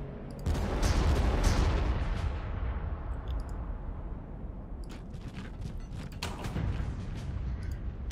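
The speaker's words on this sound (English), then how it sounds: "Let's have the artillery put some fire there." In the video game Warhammer 40,000: Armageddon, artillery fire rumbles as a deep, heavy barrage that swells and then settles into a sustained low roar, broken by scattered sharp clicks.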